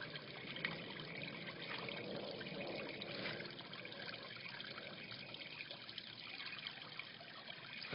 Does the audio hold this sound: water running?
yes